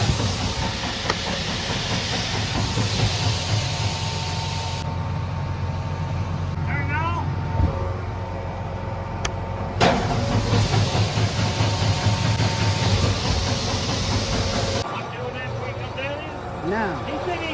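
A grain cart auger at harvest 2023 grinds and hums steadily with a metallic rattle and occasional sharp knocks, heavy machinery noise throughout under intermittent talk nearby.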